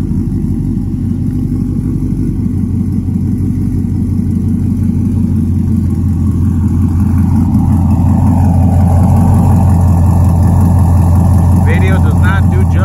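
A Chevrolet Silverado pickup's 4.8-litre V8 engine runs steadily with a deep, throbbing low rumble, loud and close, growing slightly fuller toward the end.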